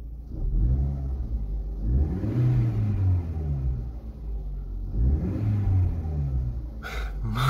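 Opel car engine revving after a new exhaust was fitted, rising and falling twice in smooth, fairly muted surges, with a brief knock near the end.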